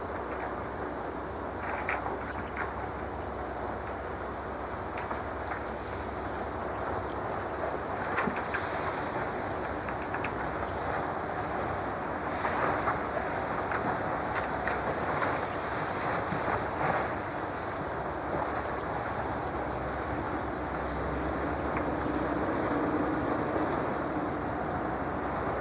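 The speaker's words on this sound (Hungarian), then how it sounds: "Éppen jön a jégtörő" An icebreaker ship cuts through thick ice in Helsinki harbour in winter, giving a steady heavy rumble scattered with sharp cracking and grinding crunches, with wind buffeting the microphone throughout.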